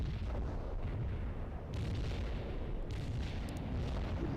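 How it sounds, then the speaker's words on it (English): Mortar strike explosions in the World in Conflict video game form a dense, continuous rumble of heavy booms and blasts, loud and low, one impact rolling into the next with no spoken voice. "Mortar strike hit for full effect"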